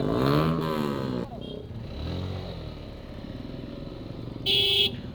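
A motorcycle races by at speed on a road near Birulia, Savar, its engine rising and falling in a quick pass, a car horn toots briefly near the end and a voice talks over the noise.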